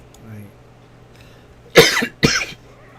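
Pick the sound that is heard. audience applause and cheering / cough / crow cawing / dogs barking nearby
cough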